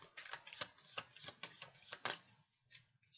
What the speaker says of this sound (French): on va tirer donc 6 cartes